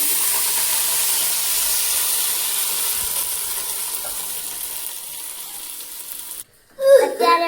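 Cabbage, peas and garlic cooking in a pan, a steady close hiss of steam and sizzle that drops out near the end before a voice speaks.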